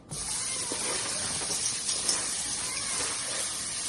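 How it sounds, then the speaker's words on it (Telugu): Flattened rice (poha) being rinsed in water in a kitchen, a steady close hissing rush of running water and sloshing that holds evenly without pause. "పోహాని మనం నీట్గా వాష్ చేసుకోవాలి."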